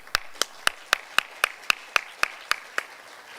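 Clapping at a men's conference on positive masculinity: about ten crisp, evenly spaced claps at a brisk steady beat, sharp and close over a faint hum of the room.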